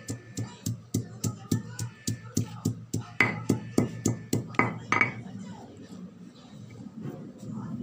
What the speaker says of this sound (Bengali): মশলাটা বেটে নিচ্ছি বন্ধুরা, আমি বাটা মশলায় রান্না করি।